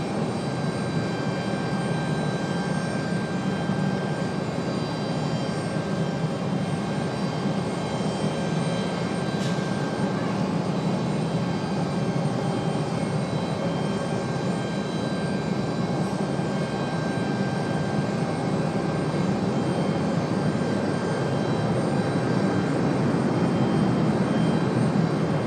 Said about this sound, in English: this arrival, American Airlines 1566 coming in from Miami